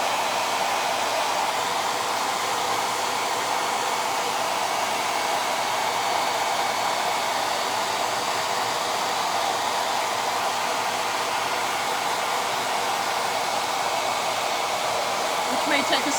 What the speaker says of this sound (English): So we're going to use our loud hair dryer to